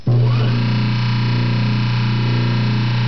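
A Delco Remy Frigidaire repulsion start motor starts with a brief buzzy surge and then runs at a steady, loud, close hum with a gritty electrical drone.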